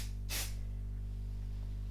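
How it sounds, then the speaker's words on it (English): Repositionable stencil spray from an aerosol can, one short quiet hiss over a low steady hum. "I'm going to use my what's it called, the Stick and Spray, that repositionable stencil spray"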